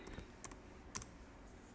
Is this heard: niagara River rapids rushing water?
no